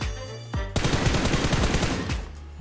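Dense, rapid automatic gunfire in PUBG Mobile on the Erangel map, loud and close, with a couple of separate shots first and then a long sustained burst of bursts.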